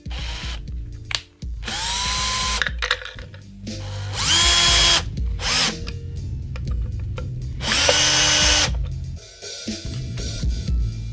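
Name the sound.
power drill driving screws into guitar tremolo claw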